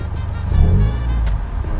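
A modified Mitsubishi Lancer EX sedan in a clean stance Evo-look build idles with a steady low engine rumble, close by and continuous, swelling slightly midway before settling back to an even drone.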